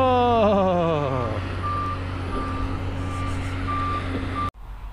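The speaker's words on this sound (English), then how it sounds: "it's noisy out here with all this construction" Construction site with a truck reversing, its beeper pulsing at a steady rate over a loud engine drone that rises then settles, before cutting off abruptly near the end.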